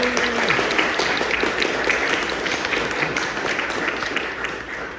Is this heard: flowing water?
no